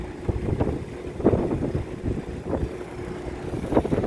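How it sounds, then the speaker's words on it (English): Outdoor wind buffets the microphone in steady low rumbling gusts beside a Carrier package heating unit on a service call, with a faint constant hum running underneath. "The wind ain't getting no better."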